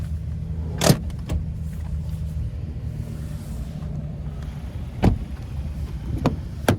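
The second-row seat of a 2024 Hyundai Santa Fe SEL slides forward for third-row access, with a soft rumbling glide and a few sharp clicks and latch clunks. Each click is brief and close.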